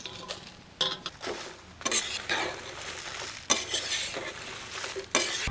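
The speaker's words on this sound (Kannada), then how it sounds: "ಈ ಬ್ಯಾಡಗಿ ಮೆಣಸನ್ನು ಕೂಡ ಇವಾಗ ಹಾಕಿ ಚೆನ್ನಾಗಿ ಮಿಕ್ಸ್ ಮಾಡಿಕೊಳ್ಳುವ" Hing, curry leaves and Byadagi chillies roasting in a pan, stirred with a metal spoon that scrapes and clinks against the pan in irregular strokes over a soft sizzle, close and alone.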